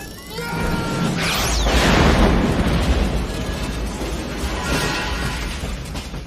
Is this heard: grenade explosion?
yes